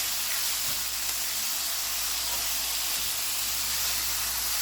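Ground beef, broken up, cooks in a pan for red chile beef enchiladas, giving off a constant, fairly loud sizzling hiss with no pauses and no talking.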